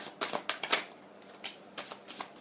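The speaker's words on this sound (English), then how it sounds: "I don't know why I continued and shuffled the cards" Tarot cards are shuffled by hand in quick, soft riffling bursts, several flurries separated by brief pauses, quiet and close with no talk.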